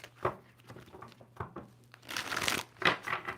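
Crisp crinkling tarot card shuffles in short bursts, a couple of quick riffles followed by a longer, louder run of flicking and snapping cards, close by.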